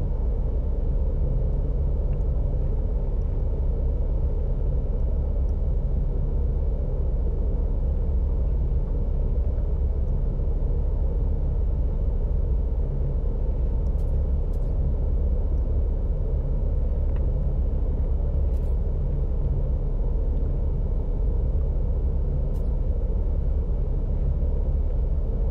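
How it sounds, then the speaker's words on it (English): A planetary storm in the video game No Man's Sky, a steady loud low roaring rumble of wind that holds unbroken and close for the whole stretch. "Okay, the storm is clearing."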